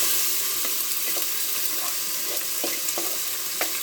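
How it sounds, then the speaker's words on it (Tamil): Ingredients for a fish curry sizzle and fry steadily in a pan, with a continuous bright crackle and occasional soft stirring knocks, close and alone with no talk. "நல்லா வதங்கட்டும்."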